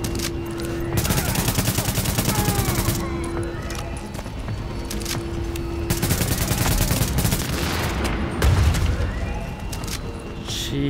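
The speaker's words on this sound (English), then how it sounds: "Shotgun." Shotgun and other gunfire in the video game The Division during a fight at the Warrengate Power Plant, loud dense bursts of shots going off almost without pause, with a few louder booms.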